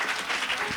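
A congregation claps and cheers at a healing and salvation church gathering in Bingerville, a brief, dense burst of applause at steady volume.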